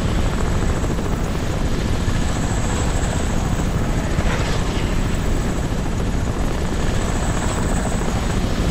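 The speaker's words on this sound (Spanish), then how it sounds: "Ah, es el helicóptero" A helicopter's rotor thumps steadily in a rapid, continuous chop, loud and close, with no voices, in the video game Crysis Remastered.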